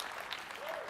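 Applause from a crowd rises as a brief, faint wash of clapping at a Madden NFL 27 reveal, heard at a distance and blended into one even rush.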